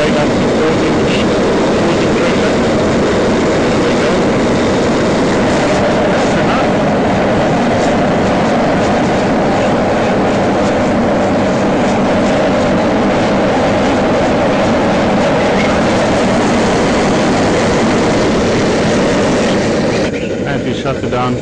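A propane gas forge burner on a Damascus forge runs at raised LP pressure, making a loud, steady, close roar with no break from start to finish.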